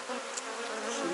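Honey bees buzzing at an open hive during frame inspection, a close, continuous hum with individual bees whining past.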